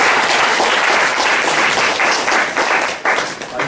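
Audience applause for a professor after a lecture, a loud dense round of clapping from a room of students that thins out toward the end.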